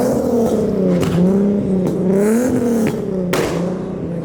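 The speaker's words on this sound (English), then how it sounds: "Infinity's revving, shooting flames down there" An Infiniti car revs hard at a car meet while shooting flames, its engine rising and falling in loud, close, repeated revs with a few sharp pops between them.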